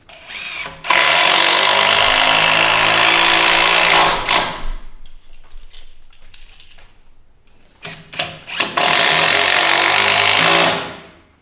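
Two loud bursts of a power driver with a square bit whirring as it drives special screws into Tanaka seismic reinforcement brackets, each several seconds long, separated by a quieter pause with handling noises.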